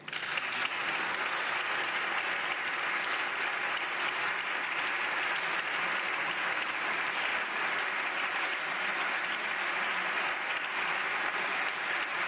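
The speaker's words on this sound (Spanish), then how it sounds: "Aplaudiments a l'hemicicle del Congrés dels Diputats" Sustained applause fills the Congress of Deputies chamber, an even, dense wash of clapping from a large seated audience that holds steady for the whole stretch, with no voices over it.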